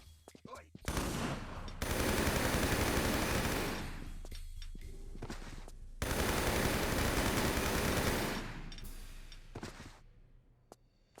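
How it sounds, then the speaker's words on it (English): Sustained bursts of machine gun fire aimed at armed guards in the Tomb Raider 3 video game, at the Thames Wharf level: two long, dense volleys separated by brief gaps, with scattered shots at the start and end. "I think we can kill them pretty quick with a machine gun"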